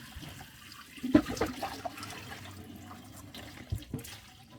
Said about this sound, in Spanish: vamos a pasar nuestros espaguetis a este colador para eliminarle el exceso de agua